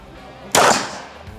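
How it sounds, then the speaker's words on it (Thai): A single sharp gunshot from a real firearm at a shooting range test, loud and close, with a brief echoing decay. "ถ้าพร้อมแล้วยิงได้เลย จนกว่ากระสุนจะหมดนะครับ"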